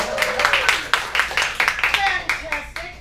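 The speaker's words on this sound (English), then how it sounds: "Give yourselves a round of applause" Clapping from a small audience at a comedy show in a lounge: a handful of distinct, fairly close claps in an uneven rhythm, with some talk mixed in.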